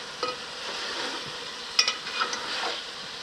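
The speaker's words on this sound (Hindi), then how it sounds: "अब कोफ्तों को थोड़ा सा हम भूनेंगे" Palak (spinach) koftas fry softly in a pan while a spoon stirs them, a quiet sizzle with a few light metallic clinks and scraping taps scattered across it.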